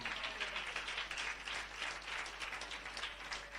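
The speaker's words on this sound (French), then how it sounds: "Donnez une acclamation au Seigneur." A church congregation applauds at a French-language service, a steady wash of clapping that holds evenly throughout without voices standing out.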